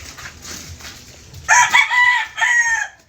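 A rooster crows loudly and close by, a long bright call in two bursts, with faint background noise before it.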